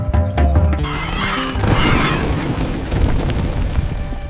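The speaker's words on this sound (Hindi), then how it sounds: "ये हाथियों की आवाज है" Cartoon elephants trumpet in a jungle, loud and close. Shrill harmonic blasts repeat over deep rumbling booms throughout.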